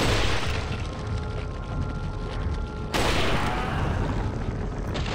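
Gunfire in Resident Evil 4 on a remote island, heavy booming shots that fill the scene, with a second loud blast about midway and a dense, roaring backdrop throughout.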